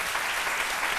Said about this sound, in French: Félicitations, j'aimerais qu'on applaudisse quand même.